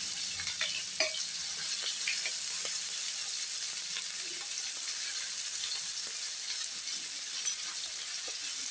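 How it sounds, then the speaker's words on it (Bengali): Chopped onion sizzling in hot oil in a pan while making chire pulao (flattened rice), a steady bright crackle with occasional small pops and stirring clinks, no talk. "এবার এর মধ্যে আমি পেঁয়াজটা ভাজব"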